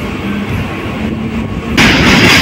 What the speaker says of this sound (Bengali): ছেড়ে দিল ট্রেন খিদিরপুর থেকে।